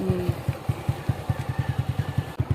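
A motorcycle engine idles nearby with a steady, lumpy putt-putt pulse of regular low thumps, moderately loud and continuous without speech.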